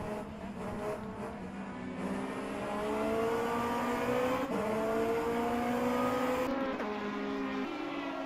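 Sports prototype race cars in an endurance race braking hard into a section of corners and accelerating away, engines droning and revving steadily across the whole stretch, loud and continuous without pause.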